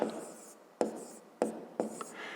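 Pen or marker writing a number on a board during a fifth-grade math lesson, with a few sharp taps and scratchy strokes spaced across the moment against a quiet room.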